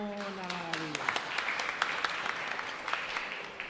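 Church congregation at a live Mass applauding the singers, a steady wash of clapping that rises as a sung note fades out at the start.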